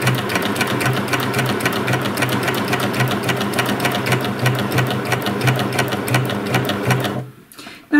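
Sewing machine stitching curved outer binding on a pair of shorts, a fast, even mechanical whirr with regular needle ticks running continuously before stopping abruptly near the end.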